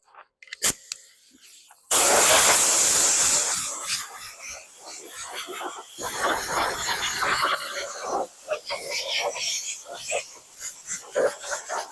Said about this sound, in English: Let's get the air blower and blow this thing off.